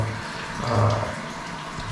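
A hot shower sprays from a handheld head aimed at a cold bathroom wall in a mountain lodging on Doi Inthanon, fed by a water heater, making a steady, close hiss of splashing water.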